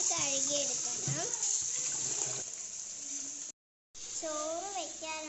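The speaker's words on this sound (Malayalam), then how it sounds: "അരി നന്നായി കഴുകിയെടുക്കാം. 4 വെള്ളത്തിൽ കഴുകിയെടുക്കണം." Rice being washed in water for chicken biryani gives a continuous splashing, running-water wash under a voice and other speech, broken by a brief silent gap.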